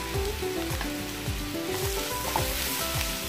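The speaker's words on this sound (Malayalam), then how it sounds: "മസാലയുടെ പച്ചമണം പോകുന്നത് വരെ നമുക്കൊന്ന് ഇളക്കി കൊടുക്കാം." Garam masala, chilli powder and black pepper sizzle and fry in a pan while being stirred, a steady close crackle with a repeated scrape of the spoon through the spices.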